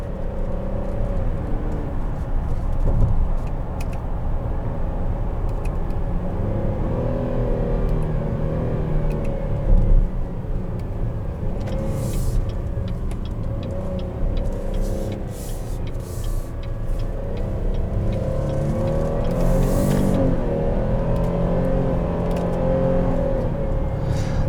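A 2020 Buick Enclave Premium with a 9-speed automatic, heard from inside the cabin while driving in third gear: a steady, moderately loud engine and road drone that holds even throughout, with no talking.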